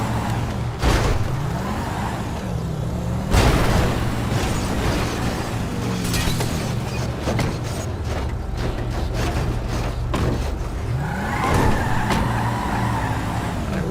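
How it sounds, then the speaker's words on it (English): A car in the GTA FiveM video game skids with tire squeals, crashes with heavy impacts and rolls over, loud thuds and scraping over a steady engine drone, no talking. "I rolled it and broke the glass,"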